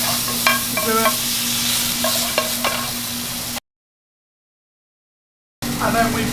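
Garlic tomato paste frying in a pan for prawn vindaloo, a close sizzle with a few stirring scrapes and clicks, cut by two seconds of complete silence before it resumes.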